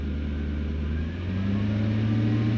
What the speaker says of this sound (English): Now I am holding my foot on the throttle.